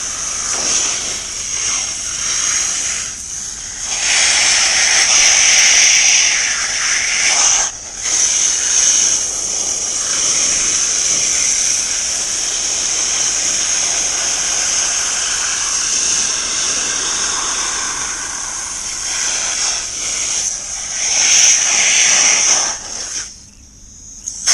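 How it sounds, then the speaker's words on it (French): Water jet hosing off the two-part filter of a Zodiac CNX 30 pool robot, a loud continuous hissing spray that briefly drops out and shifts in pitch as the stream moves. "Un bon coup de jet d'eau, ça améliore les choses"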